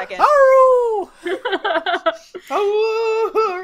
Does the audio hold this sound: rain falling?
no